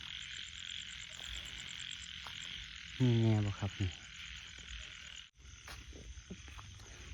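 A frog croaks loudly at night in a single rattling, pulsing burst of about a second, close by against a steady hum of night insects, and someone speaks briefly.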